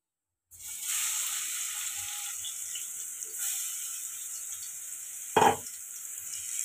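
Ginger garlic paste sizzles steadily in hot oil in a pan for a mutton curry, a continuous close hiss with one short louder spatter near the end, no voices.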